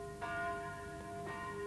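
The largest bell of the Lutheran church in Aradáč tolls twice, about a second apart, each stroke leaving a rich, sustained ringing hum that carries through the short stretch without any voices.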